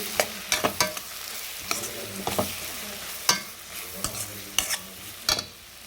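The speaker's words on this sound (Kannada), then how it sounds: "ಗರಂ ಮಸಾಲ ಪೌಡರ್ನು ಕೂಡ ಹಾಕಿ ಚೆನ್ನಾಗಿ ಮಿಕ್ಸ್ ಮಾಡಿ" A spoon scrapes and stirs garam masala powder in a frying pan for egg curry, with repeated sharp clinks against the metal over a soft sizzle, steady and close.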